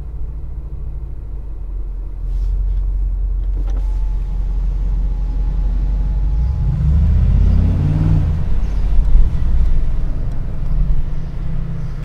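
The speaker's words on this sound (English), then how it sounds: "So if you press it, the exhaust valves open" A 2022 Mercedes G63 AMG G-Class in Arabian Grey rumbles with its exhaust valves open, a deep steady drone that swells into a louder, more aggressive surge midway, heard close from inside the vehicle.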